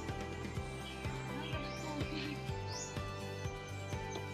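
Scattered faint bird chirps over a steady background hum with regular low thumps, the calls brief and distant.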